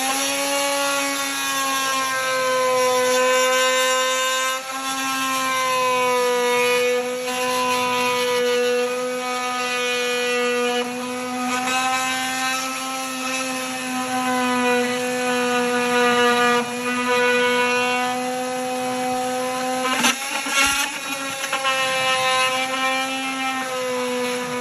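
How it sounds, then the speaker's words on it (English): Oscillating multi-tool cutting a golf cart battery bucket flush during a lithium battery install in a 2004-2008 Club Car Precedent, a steady high buzzing whine held for the full length with brief dips as the blade shifts. "we're going to use this oscillating tool because it cuts a nice flat straight line in order to do this"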